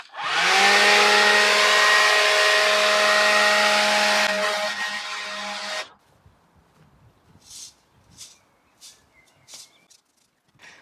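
A leaf blower blows grass seed across bare lawn soil, its loud, steady motor roar running for about six seconds before cutting off, leaving faint scattered rustles.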